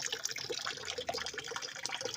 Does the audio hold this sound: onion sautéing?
no